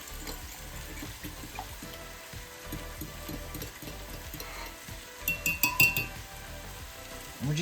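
Rosemary and thyme being mixed together in a bowl for a classic pot roast, with soft scraping and a quick cluster of light clinks from a utensil against the dish.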